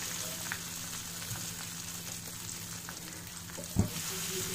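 Capsicum frying with spices in a pan over a low gas flame for a pickle, giving a steady, quiet sizzle throughout with one brief louder clatter near the end and no talking.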